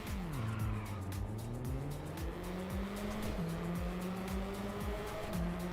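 Race cars launch from the start of a ranked race in the RaceRoom sim, engines roaring close and loud through repeated rising gear shifts, with tire noise and other cars around.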